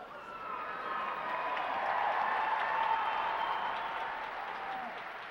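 An opening night crowd at an arena applauds, a broad, sustained wash of clapping that swells in the middle and tapers slightly, with faint cheering mixed in.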